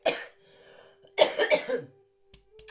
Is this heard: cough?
yes